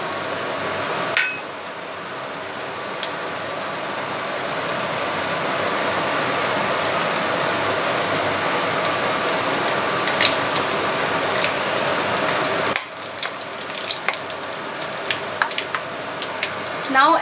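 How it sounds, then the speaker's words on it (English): Whole spices and a bay leaf crackle in hot oil for a mutton lahsooni gosht. The loud, continuous sizzle breaks briefly near the start, then again later, with occasional light clinks. "The oil is hot, so I will add all these whole spices"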